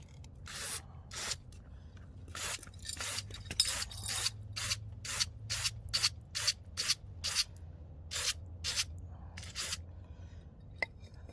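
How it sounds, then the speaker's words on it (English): Aerosol mass airflow sensor cleaner sprayed onto the MAF sensor of an MR2 Spyder, a dozen or so short hissing bursts in an irregular rhythm, close and fairly quiet, with a low engine-bay hum beneath. "You can spray in here too. And Daddy, let's spray inside here."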